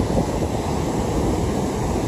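Ocean waves wash in at the water's edge along the Asilomar shore, a dense continuous roar of surf mixed with gusting wind buffeting the microphone, loud and close with no voices.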